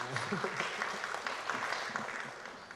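Audience clapping to welcome a guest speaker at a university guest lecture, a moderate steady patter of hands with voices mixed in.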